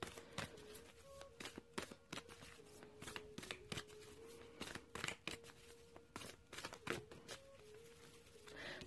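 A deck of cards is riffled and shuffled repeatedly, quick papery flutters and taps in an uneven rhythm, close up and fairly soft.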